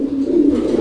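Pigeons from a loft of racing and fancy breeds give a steady low cooing drone, close and continuous with no break through the short moment.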